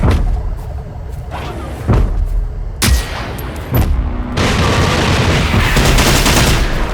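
Assault rifle fire from a robot enemy in the game Generation Zero, loud sharp shots and bursts with thuds, scattered at first and then a dense sustained volley in the second half.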